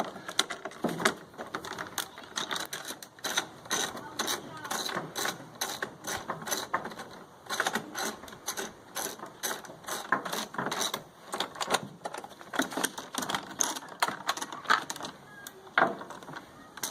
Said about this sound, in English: There are a couple more bolts that we'll go ahead and remove on this side.